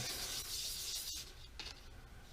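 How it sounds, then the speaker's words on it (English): Steady, soft rubbing and scraping of sandpaper by hand against a soft material, close up and continuous, briefly pausing midway. "all you need to do is just a little bit of sanding"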